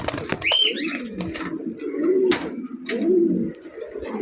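Pigeons in a pen of birds kept for sale coo low and close, with a few soft repeated calls over a busy background of chirps and small thumps.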